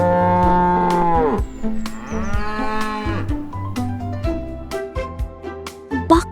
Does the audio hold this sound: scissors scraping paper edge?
no